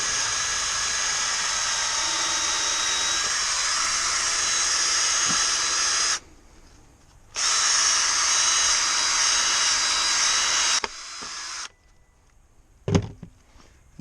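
A power drill whines steadily as it bores drain holes through the plastic skid plate of a 2020 Suzuki KingQuad 750 ATV, loud and close, stopping briefly twice and ending with a short clatter.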